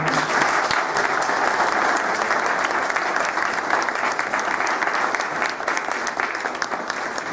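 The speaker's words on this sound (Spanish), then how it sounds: "Le damos un aplauso a Monseñor." A full audience applauds a monsignor at a cultural dialogue event, with thick, continuous clapping that stays loud and even from start to finish.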